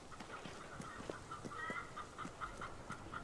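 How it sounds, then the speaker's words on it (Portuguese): Chickens clucking in the video game Fable 3, a steady scatter of soft clucks over faint outdoor ambience. "Ah, as galinhas."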